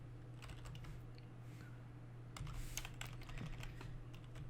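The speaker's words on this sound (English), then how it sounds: "type in the text" Keys clatter on a computer keyboard as text is typed, a quiet run of quick clicks over a steady background hum, growing slightly busier toward the end.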